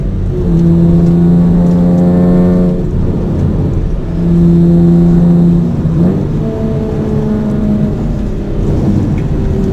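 A Mitsubishi FTO Version R race car engine revs hard under full throttle on a track, its loud, close, rising drone briefly dropping between gear changes before climbing again.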